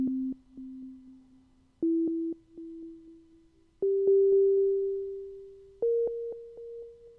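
Sonic Pi synth notes in a slow step-up sequence of four sustained tones, each struck note trailed by a fading echo effect repeating the attack several times, clear and prominent with nothing else present.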